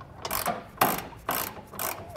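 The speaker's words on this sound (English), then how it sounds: "we'll go ahead and get our side bolts in now" A ratchet tightens the side bolts of a Curt trailer hitch on a 2022 Chevrolet Colorado, giving four rhythmic bursts of rapid clicking, close and fairly loud, with brief gaps between strokes.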